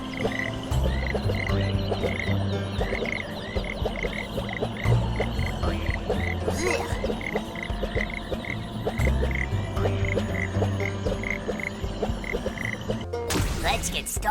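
Frogs in the Ben 10: Power Trip video game croak repeatedly in a steady rhythmic chorus, close and fairly loud, over a low ambient game backdrop with no talking.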